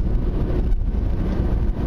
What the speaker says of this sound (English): I love how rotary motors sound.